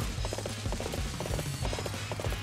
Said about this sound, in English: Where's my horse? There's my horse! That's my horse!